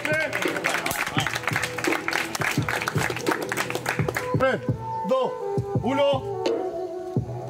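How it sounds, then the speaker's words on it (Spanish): An audience at a battle rap qualifier in the Canary Islands claps for three rappers, with dense applause in the first few seconds that fades under an announcer talking and shouting. "Un aplauso para los tres."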